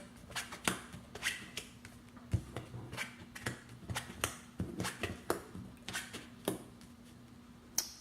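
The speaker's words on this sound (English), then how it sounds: "I'm gonna flip the cards over and we're gonna get started" Tarot cards are flipped over one after another, giving a dozen or so quiet, sharp slaps and snaps at an irregular rhythm against a soft background hum.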